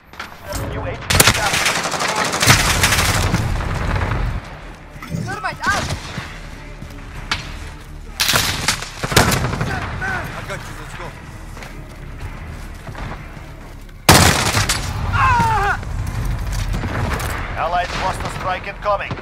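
Bursts of automatic gunfire from a first-person shooter video game come in loud rapid strings, break off, then start again, with game voice callouts and a player talking over the shooting.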